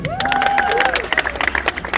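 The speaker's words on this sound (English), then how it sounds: "Let's clap for Gideon." An audience claps and cheers at a luxury Mercedes-Benz launch event. The close, lively burst of applause carries whoops rising above the rapid clapping.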